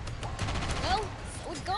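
Gunfire in the video game Sand Land during a fight with the Raptors' leader, a quick burst of shots mixed with game effects, while a voice speaks over it.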